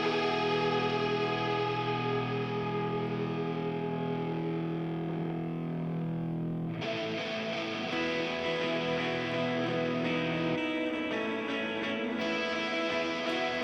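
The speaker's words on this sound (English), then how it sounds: "So I obviously used the extra distortion in the higher version of that same line just to build some tension." A rock guitar with heavy extra distortion, miked loud, sustains a droning, saturated line with echo, then shifts into a higher, grittier version of the same phrase partway through, playing alone without voices.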